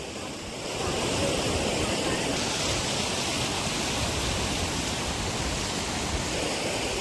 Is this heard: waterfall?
yes